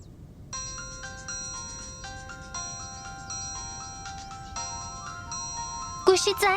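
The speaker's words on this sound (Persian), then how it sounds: "گوشیت زنگ میخوره." A mobile phone ringtone plays a repeating electronic melody in steady phrases over faint room noise, then a voice cuts in at the end.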